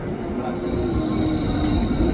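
KRL Commuter Line electric train moving at Manggarai station: a steady, close rolling rumble with a faint high wheel squeal, continuous and without speech.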